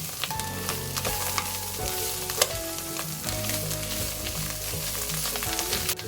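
Mushrooms sautéing in a pan with black pepper give a steady, close sizzle, with scattered clicks and scrapes of stirring throughout and no talking.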